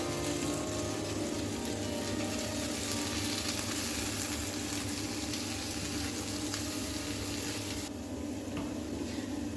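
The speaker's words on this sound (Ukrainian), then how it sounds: "Додаємо печериці до цибулі на пательні." Mushrooms and onions frying in a pan with flour stirred in make a continuous low sizzle and crackle under a steady background hum, with occasional stirring noises and no talking.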